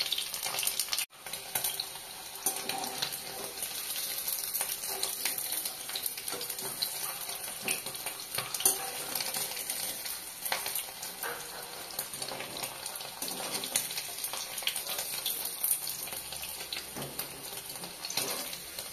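Papaya paneer pieces frying in oil, a steady, dense hiss of bubbling and crackle that runs unbroken and fairly loud throughout, with no talking.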